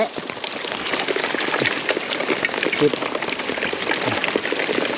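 Rain pours steadily during a fishing trip for giant snakehead at Kaeng Lawa, a dense close patter of drops hitting surfaces throughout, with people talking over it.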